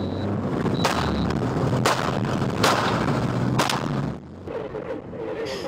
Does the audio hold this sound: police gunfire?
yes